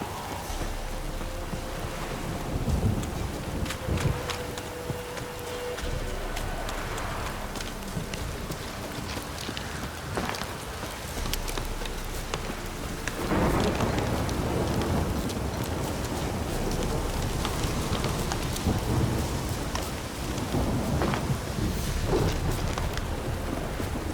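Heavy rain pours with thunder in The Witcher 3, a constant wash of rainfall with deep rumbles breaking in several times, including a strong swell near the middle, with no speech.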